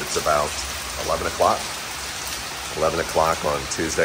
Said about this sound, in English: The last few minutes, the rain has really picked up.